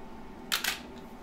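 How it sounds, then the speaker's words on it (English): A single camera shutter fires as a photo is taken on a camera tethered to an Ubuntu Linux computer. It gives a crisp double click over a quiet room hum. "Let's take a photo."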